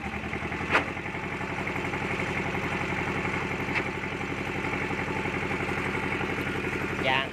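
Small two-wheel tractor engine idling with a steady, chugging mechanical clatter, moderately close and continuous, with a few faint knocks on top.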